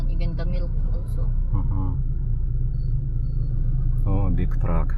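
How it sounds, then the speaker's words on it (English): A big truck turning on a busy road in Angeles City gives off a deep, continuous engine rumble close by, while people talk over it throughout. "Oh, big truck, turning."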